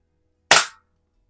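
Rohm Twinmaster air pistol firing a pellet at a can, a single sharp close crack with a quick decay, alone in silence.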